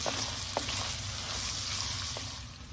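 Sausage frying in a pot as its fat renders, with paprika being stirred in: a dense, steady sizzle right up close, broken by a few faint utensil clicks and no voices.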